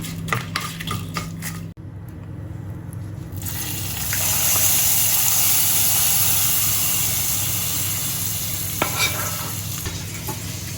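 A hot tempering of fenugreek and chilli is poured into a Kerala buttermilk curry, moru curry. A brief frying crackle cuts off, then a loud hissing sizzle rises, swells and slowly fades, with a few light clinks near the end.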